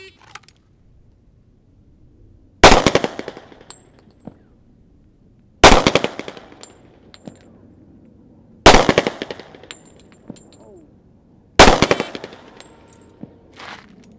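Four rapid volleys of loud 1911 pistol fire at steel targets, each a tight burst of cracks, spaced about three seconds apart, with faint metallic rings and quiet range ambience between them.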